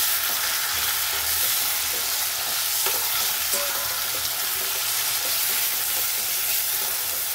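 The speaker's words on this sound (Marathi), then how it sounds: "आता टोमॅटोला पण आपण परतून घेऊ।" Tomatoes sauté in a pan with onion and asafoetida for spicy misal, giving a steady close sizzle with faint stirring scrapes throughout.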